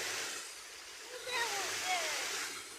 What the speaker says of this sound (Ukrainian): Кіра побігла під інший струмок